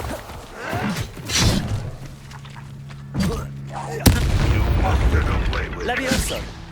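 Incendio fire spell cast during a duel in Hogwarts Legacy, a loud whooshing burst with heavy thuds and booms amid combat effects, with a voice speaking over the action.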